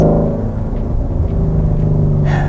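A 2017 Ford Mustang GT350's flat-plane crank V8 drones steadily with a deep, throaty exhaust note, loud and close, with a slight rise in pitch near the end.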